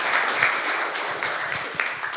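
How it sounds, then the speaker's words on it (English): An audience at a startup launch event in Estonia breaks into brief, dense applause, many hands clapping together in a lively burst close by. "And then a round of applause."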